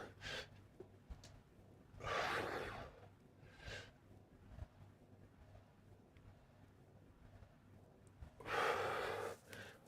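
Heavy breaths during a gym workout, a few loud bursts of exhaling or gasping spaced apart with quieter breathing between, close to the microphone and with no talking.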